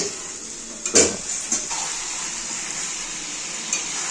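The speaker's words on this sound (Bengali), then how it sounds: "মাংস রান্না হচ্ছে আমাদের আজকে।" Meat cooks in a pan for a Bengali kosha mangsho, giving a steady, moderately loud sizzle, with a couple of sharp utensil clinks near the start.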